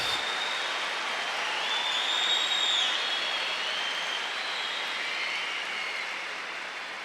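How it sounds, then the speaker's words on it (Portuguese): A congregation at a Christian sermon applauds in a steady, dense roar of clapping that holds evenly throughout and fades slightly toward the end. "Pode aplaudir à vontade."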